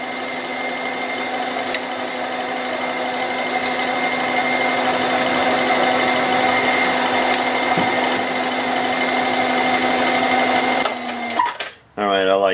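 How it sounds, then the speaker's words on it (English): A power drill whirs at a steady high pitch while cutting a countersink into drilled holes in a metal part, running continuously for about eleven seconds before winding down with a brief clatter at the end. "do a nice little countersink there"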